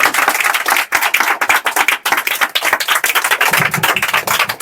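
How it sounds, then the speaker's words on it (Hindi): A crowd of schoolchildren and teachers claps steadily at a coaching-class ceremony honouring a teacher, dense sustained hand claps, loud and close throughout, with no talk over them. "ताली बजा।"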